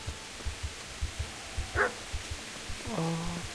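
A dog barks briefly in the medieval video game Kingdom Come: Deliverance, one short burst near the end, set against a steady low thumping rhythm.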